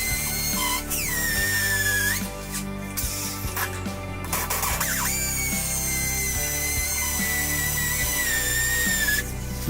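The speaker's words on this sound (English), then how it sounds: "Just let the drill do the work." Power drill boring bolt holes into a concrete garage floor for a Warn winch mount, a steady loud whining grind with a few brief pauses and bursts of higher-pitched squeal.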